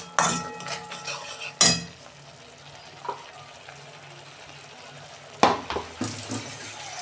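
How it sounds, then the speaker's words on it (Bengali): Water is poured into a cooking masala for an okra dish, splashing in a few short bursts amid clinks of utensils against the pan, with quiet gaps in between. "অল্প আমি জল দেবো, বেশি জল দেবো না,"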